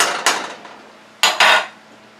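Medium white potatoes dropping into a pot of beef stew with diced tomatoes: a few sharp clattering splashes, one early and two close together near the end, loud and close with no talking.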